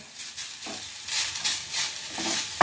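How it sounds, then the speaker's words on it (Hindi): Chhena (paneer from split milk) being dry-roasted and stirred in a pan while making gujiya, giving a soft sizzle and scraping stir sounds that rise and fall over a few seconds, close and moderately loud with no talking. "ये देखिए अच्छे से ये भून चुकी है, सूखी सूखी और भी हो गई है"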